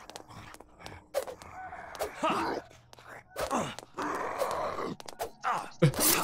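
In the zombie survival game Night of the Dead, a bird gives drawn-out calls mixed with other in-game noises, with bursts of fairly loud, irregular vocal sounds running through the whole stretch.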